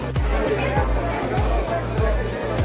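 A dense crowd of exam candidates murmurs on a railway station platform, a close, steady babble of many voices with a low rhythmic thumping running beneath.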